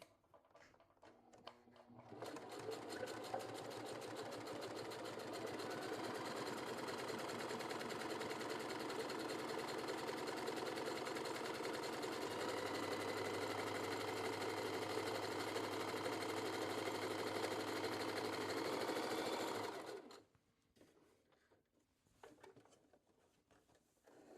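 Sewing machine running a steady zigzag stitch down a faux leather strap, a continuous fast mechanical whirring for about eighteen seconds, close and fairly loud, starting and stopping cleanly with brief quiet handling before and after.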